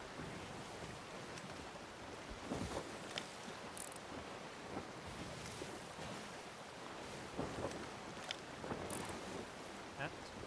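A sailing ship in Sea of Thieves cuts through the open sea, giving a steady wash of waves and wind with occasional louder sloshes of water against the hull, and no voices.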